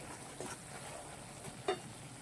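Shengole filling being stirred and roasted in oil in a pan, a steady soft sizzle broken by a few scraping stirs, with one louder clack near the end.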